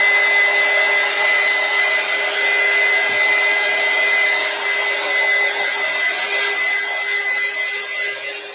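A hair dryer blows on acrylic paint on a canvas, a loud, constant whooshing hum with a steady motor whine that holds close and unbroken throughout.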